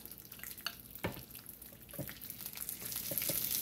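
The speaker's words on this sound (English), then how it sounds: "our pepperoni is popping, hear it?" Pepperoni sizzles and crackles on a hot waffle maker, a steady frying hiss broken by several sharp pops, heard close up with no talking.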